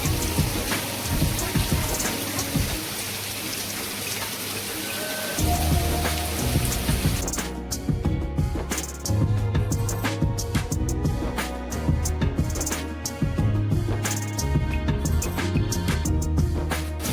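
Rain falling steadily on surfaces outdoors, a dense continuous patter with scattered louder drips and low rumbles, no voices.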